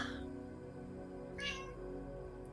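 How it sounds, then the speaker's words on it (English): A house cat meows once, fairly close, with a brief rising cry standing out over a steady low background hum. "there's that cat of mine stepping into our sacred space together."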